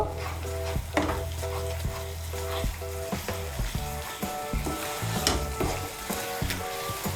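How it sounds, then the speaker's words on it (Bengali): Ground spices, including chilli powder, being stirred into a potato curry frying in a pan, with a steady close sizzle and repeated clattering scrapes and knocks of the spoon against the pan throughout. "গুঁড়ো মশলাগুলোকে ভালো করে মিশিয়ে নেব।"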